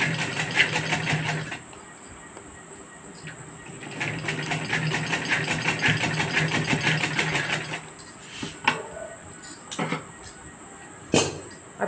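A sewing machine stitches a handkerchief into a small pouch, running in fast rattling bursts with short pauses between them, close and moderately loud, followed by clicks and fabric handling.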